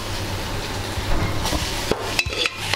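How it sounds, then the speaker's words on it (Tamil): Chopped banana stem goes into a pan of sautéing onions and curry leaves, bringing a steady close sizzle with stirring scrapes and a few sharp utensil clinks against the pan. "வெங்காயம் வதங்கின உடனே இப்போ வாழைத்தண்டை போடுறோம்."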